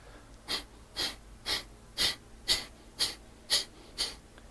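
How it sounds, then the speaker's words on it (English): Breath of Fire yoga breathing: eight sharp, forceful exhalations through the nose in a steady rhythm, about two per second, close and clear, with no voice over them. "It's rapid breathing, but it's only exhaling."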